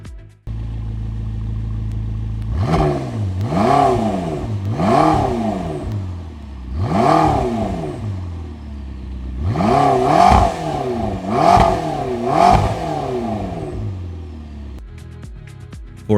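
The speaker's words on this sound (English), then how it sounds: "let's listen to that twin turbo V8" A stock 2015 McLaren 650S Spider's twin-turbo V8, about 640 horsepower, with sport exhaust, idles and then fires off a series of sharp, loud rev blips in two bursts before settling back to a steady idle.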